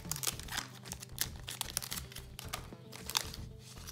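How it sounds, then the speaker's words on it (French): Scissors cut open a Pokémon GO card booster pack, a dense run of close crinkling foil and crisp snipping rustles that continues steadily for several seconds with no talking. "j'ai pris des ciseaux qui coupent bien encore une fois"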